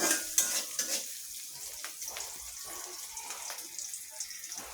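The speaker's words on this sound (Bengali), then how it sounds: "আমি তাড়াতাড়ি আমার পেঁয়াজ কাঁচামরিচটা ভাজা হয়ে যাবে" Onion and green chili frying in a pan give a soft, steady sizzle with a few clinks of a utensil against the pan early on, close and fairly quiet, with no talk.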